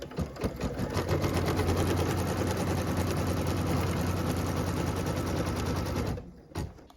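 A sewing machine runs steadily for about six seconds, stitching a tack-down line on quilt fabric with a fast, even mechanical rattle, then stops, followed by a couple of brief handling clicks.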